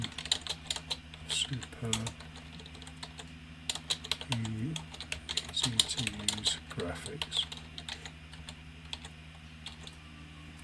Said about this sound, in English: you'll see I've been typing down here